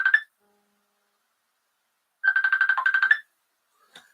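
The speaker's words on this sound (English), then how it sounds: "Why are you ringing me, Danny?" Incoming-call phone ringtone: a brief burst, a pause of about two seconds, then a longer warbling ring of roughly one second, followed by a faint short blip, all clear and close with silence between.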